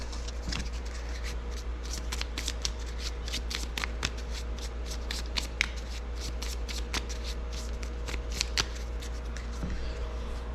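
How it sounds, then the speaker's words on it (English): Playing cards are shuffled in a long run of rapid riffles and crisp snaps, close up, over a low steady hum. "Give them a quick shuffle here."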